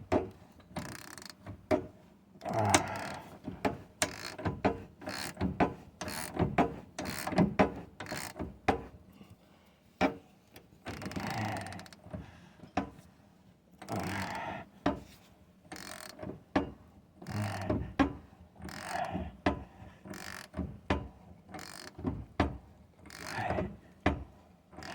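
A wrench ratchets repeatedly while tightening a bolt on a 1991 Ford F150 front control arm with polyurethane bushings, close, uneven bursts of clicking and metallic knocks with brief pauses between strokes.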